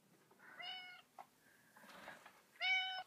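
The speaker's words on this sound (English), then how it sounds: "complete with a little black cat" A small black cat meows three times, the last call loudest and closest, with short pauses and quiet room sound between.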